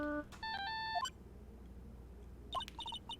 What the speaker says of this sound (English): His cell phone going off again?